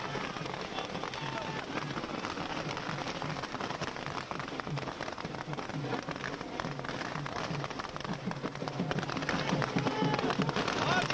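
Firecrackers crackle in dense, rapid bursts at an outdoor political victory celebration, a continuous popping crackle that grows louder toward the end, with crowd noise and talk underneath.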